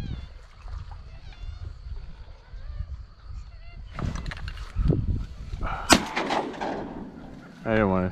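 Several sharp shotgun blasts crack out nearby during a foggy duck hunt in Florida, irregularly spaced over rustling and background noise, with people talking around the shots.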